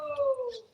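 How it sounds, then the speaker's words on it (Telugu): Puppies whimpering: one short, high, wavering whine that slides downward and sounds fairly close, lasting under a second. "అదో కుక్క పిల్లలు"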